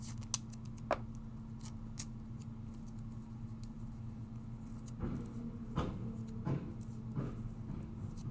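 Scissors snip in short, sharp cuts, scattered irregularly over a steady low electrical hum, with a few louder snips partway through.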